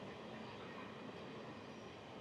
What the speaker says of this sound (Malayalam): ഇതൊക്കെ പാസഞ്ചർ ട്രെയിനുകളാണ്